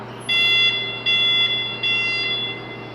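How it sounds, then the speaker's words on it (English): A brand-new 2021 Heli pneumatic forklift with an 80V lithium-ion battery sounds its backup alarm three times in a steady, evenly spaced rhythm, each tone lasting under half a second over a constant low hum. "you'll hear the backup alarm as well"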